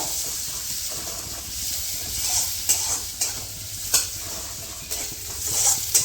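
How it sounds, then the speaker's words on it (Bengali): Onions browning in a pan for egg curry, with a steady sizzling hiss and periodic scraping clatters as a spoon stirs them, close and continuous with no talking. "পেঁয়াজটা ভালো করে লাল লাল করে ভেজে নেব যতক্ষণ না লাল হবে ততক্ষণ ধরে ভাজবো আর এইভাবে একটু নাড়া দিয়ে নেব"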